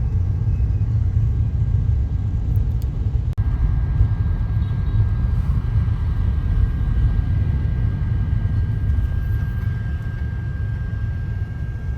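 Morning road traffic in Pattaya, Thailand, heard as a dense, constant low rumble of engines and tyres, loud and unbroken throughout, with a faint steady whine on top and no voices.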